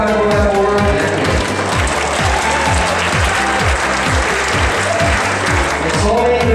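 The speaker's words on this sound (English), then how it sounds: "Have a round of applause for our 4x4x4 champion." Loud, steady applause from an arena audience at the finals of the 2013 Rubik's Cube World Championship, honouring a 4x4x4 champion, with dense clapping sustained throughout and music-like tonal bands beneath.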